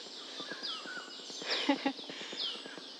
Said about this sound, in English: So many birds have something to say.